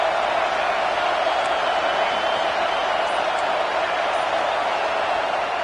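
Steady stadium crowd roar from the video game Madden on PS5 at the start of a football game's second half, a dense continuous wash of cheering with no clear breaks throughout.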